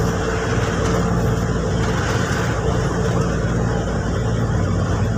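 Heavy road traffic backed up near a toll gate, a dense continuous wash of engines and tyre noise, steady and fairly loud with no clear individual vehicles or talking.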